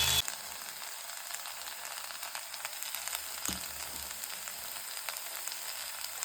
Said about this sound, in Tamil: இது கூடயே நம்ம மிளகாத்தூளையும் சேர்த்துக்குவோம். சேர்த்துட்டு மிளகாத்தூளோட பச்சை வாசனை போகிற அளவுக்கு வதக்கிக்கிட்டோம்னா